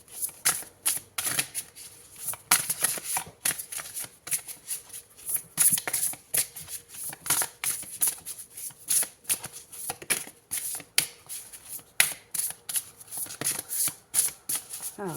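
Tarot cards are shuffled over and over in quick, papery riffling bursts, close and fairly quiet, each flurry separated by short pauses.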